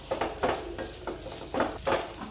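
Soya chunks pepper fry, seasoned with garam masala and pepper powder, being stirred in a pan, with rhythmic scraping strokes over a soft background sizzle, close and moderately loud.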